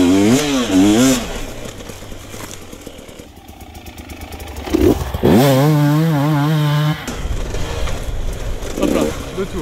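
A 2022 GasGas EC 300 enduro motorcycle revs hard in a forest, its two-stroke engine rising and falling in sharp bursts with a lull in the middle, loud and close.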